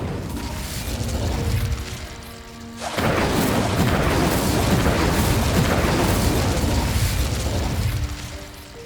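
An Incendio fire spell is cast in Hogwarts Legacy, a sudden whooshing burst that erupts about three seconds in and roars steadily for several seconds before dropping off, with softer mechanical tones before it.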